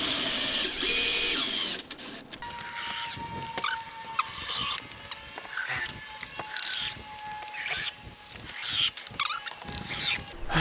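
Power drill driving screws into a window frame during house wrap and window installation, short bursts of whirring and clicking in an irregular rhythm, close and moderately loud.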